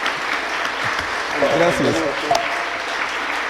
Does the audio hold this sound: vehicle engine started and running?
no